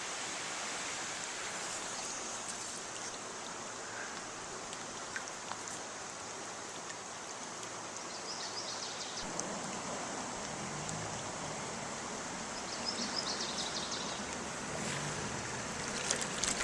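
Broad rushing water noise from boats going down river rapids, steady and hiss-like, with a slight shift midway as the churning gets rougher; no voices.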